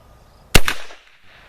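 Single sharp rifle shot from an 1891 Argentine Mauser engineer carbine firing Lyman 3118 cast bullets, a loud close crack followed by a brief echoing tail, then quiet.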